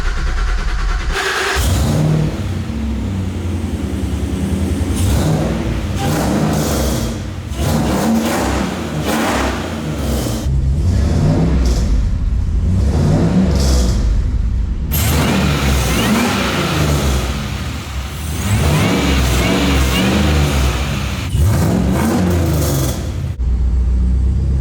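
A supercharged LT4 V8 swapped into a lifted Chevy K10 squarebody pickup fires up and revs through a newly fabricated exhaust, loud and close, with repeated throttle blips rising and falling over a rumbling idle for the whole stretch.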